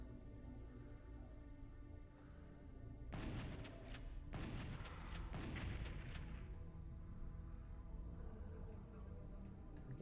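Three heavy shotgun blasts from the 1995 PlayStation version of Ultimate Doom come in quick succession, each a booming burst of noise over a steady, faint game-music backdrop.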